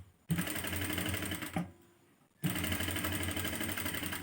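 A sewing machine stitches piping into a blouse in two steady bursts of rapid mechanical whirring, split by a brief pause, loud and close with no talking.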